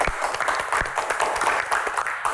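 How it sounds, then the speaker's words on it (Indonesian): A studio audience at an Indonesian talk show bursts into lively applause, dense clapping with a few sharp, close claps standing out, steady and fairly loud throughout. "Tepuk tangan, luar biasa."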